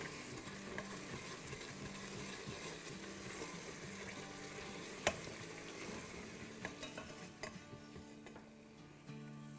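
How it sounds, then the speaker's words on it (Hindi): Masala frying in a pot for dal makhani, a quiet continuous sizzle with soft scraping stir sounds and a few light clinks, no talking. "देखें ज़बरदस्त सा मसाला भुन रहा है।"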